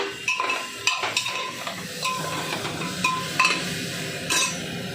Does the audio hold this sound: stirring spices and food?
yes